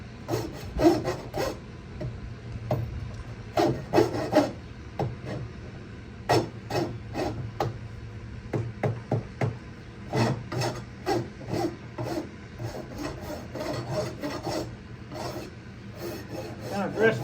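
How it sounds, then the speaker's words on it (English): An old repurposed rasp files down horseshoe nails on a mule's hoof, making repeated close, scraping strokes in irregular bursts with short pauses between passes. "I'm gonna file the nails down a little bit"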